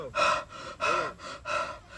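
A person imitates shallow breathing after running with three quick, loud, rhythmic gasping breaths, close up and alone.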